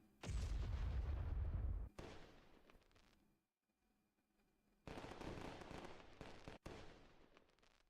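Firework effect in the video game Poppet Quest: a loud crackling burst that cuts off abruptly, a quiet gap, then a second dense crackling, popping burst with a brief dropout.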